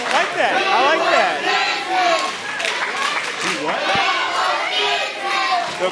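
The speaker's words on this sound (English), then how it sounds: "The crowd letting Jason Hotch know how they feel about him." Crowd at a live professional wrestling event shouting and jeering at a wrestler, a dense, loud roar of voices sustained throughout, with a commentator talking over it.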